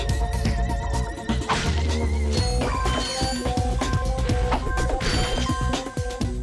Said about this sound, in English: Smash that glass open.